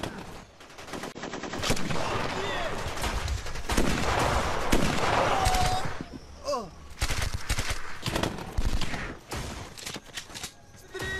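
Rapid bursts of automatic gunfire and scattered shots in a 2009 war film scene, loud and repeated across the whole stretch with brief pauses and a faint voice.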